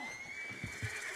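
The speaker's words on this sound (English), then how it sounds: "And this here is Old Father Time. My favorite horse." A horse in the Red Dead Redemption 2 video game gives a short, clear neigh lasting about a second, with a soft low snort and stamp beneath it.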